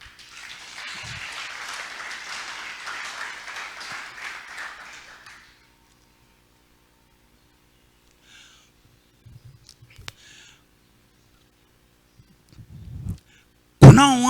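Congregation applause at a church service rises for about five seconds, a dense steady patter of clapping that fades out, followed by near silence with scattered small knocks and a brief loud burst at the end.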